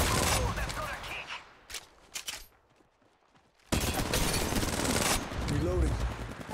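Gunfire in the video game Apex Legends arrives in sharp bursts, broken by a quieter gap, and then resumes as dense, loud, continuous shooting, with faint game voice and movement sounds mixed in.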